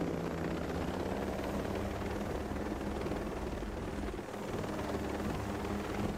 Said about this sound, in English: We've got to try and shoot helicopters that are coming after us as well.